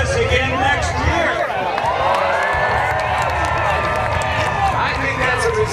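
A large audience at a night air show at AirVenture Oshkosh roars with cheering and applause, dense and loud throughout, with an announcer's voice carrying over the crowd.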